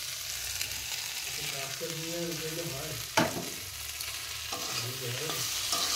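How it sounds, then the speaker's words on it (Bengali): Potatoes and tomatoes with whole spices frying in a pan, a steady hissing sizzle broken by a sharp clank of a utensil and a couple of short scraping stirs, without talk. "1 মিনিট ভেজে নিয়েছি আলু আর টমেটো আর ফোড়ন।"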